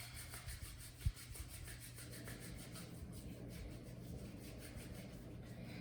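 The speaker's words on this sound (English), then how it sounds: "I'm going to start by rubbing it in for about 15 seconds." Hand sanitizer rubbed into hands, a soft, continuous close-up friction swish with one brief knock early on.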